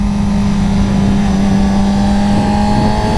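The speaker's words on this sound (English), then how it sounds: "How can you not love these bikes and these engines?" A Yamaha R6 motorcycle's 600cc inline-four engine drones loud and steady close up, holding a strong constant tone without other sounds or voices.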